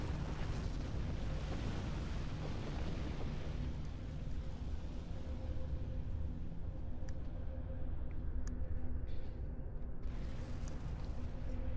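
A deep, rumbling explosion in the space combat video game Star Trek Online, a dense low roar that holds loud and steady before thinning out with faint higher crackles toward the end.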